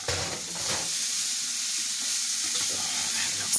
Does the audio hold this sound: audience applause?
no